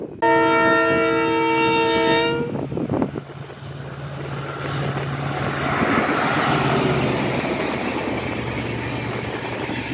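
The 11098 Poorna Express from Ernakulam to Pune with brand-new LHB coaches: a loud, sustained horn blast opens, then the roar and rumble of the train running past, close and continuous.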